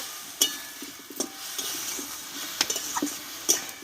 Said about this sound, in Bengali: এই পাতার পেস্টটা কিন্তু খুব টাইম নিয়ে কষতে হবে একদম শুকনো শুকনো করে ভালোভাবে কষিয়ে নেব